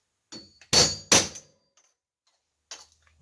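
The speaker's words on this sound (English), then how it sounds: "take your center punch, every other hole, center punch." A center punch is struck into T-track holes with two sharp, bright metallic taps in quick succession, then one fainter tap about a second and a half later, each close and isolated against silence.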